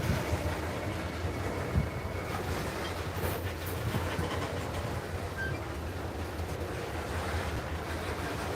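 Freight train cars roll slowly through a rail yard with a steady low rumble and broadband wind-like noise, distant and continuous, with faint clanks and no voices.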